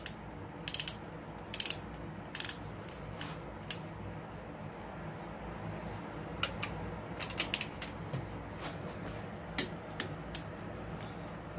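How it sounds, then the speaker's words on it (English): A ratchet wrench torques oil galley gasket bolts on an Infiniti engine, giving short bursts of rapid clicking scattered across the clip over a low background hum, close by with no talk. "Now it says torque it down to 33 and then go an additional 90 degrees."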